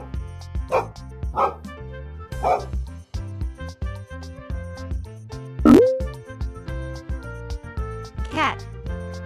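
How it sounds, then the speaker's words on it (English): A dog barks several times in separate short woofs, including one louder sliding bark, over light background music in an animal-sounds lesson. "Dog."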